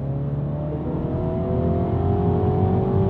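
MINI JCW engine in sport mode revving as RPM climbs, a steady, loud rising drone with a whirring edge and no talk over it.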